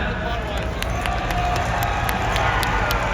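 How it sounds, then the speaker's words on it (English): A crowd at the Blue and Gold truck and tractor pull in Laurel County claps and cheers in a steady, dense roar, a voice talking over it. "Can we give a round of applause for that?"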